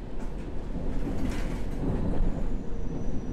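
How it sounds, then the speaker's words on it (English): Rumbling of a London Underground tube train pulling into a station in a train simulator game, a steady low rolling roar that swells slightly as the train draws in, with no talk. "Here comes the second tube running in."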